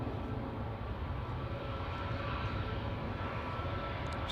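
A Cathay Pacific Airbus A350-900 takes off at Manchester Airport, a steady, loud broadband engine roar with deep rumble holding evenly throughout, no voices.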